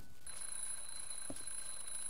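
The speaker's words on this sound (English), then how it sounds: "that alarm set a lot quicker than I thought it would" A steady high electronic alarm tone in the video game Hello Neighbor sounds continuously, faint and thin, with a brief low thump partway through and no talking.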